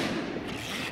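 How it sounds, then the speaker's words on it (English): A zip firework fizzes and roars inside a soda bottle, a dense, sustained hissing burst that stays loud and steady for just under a second with no voices. "This is my last zip firework."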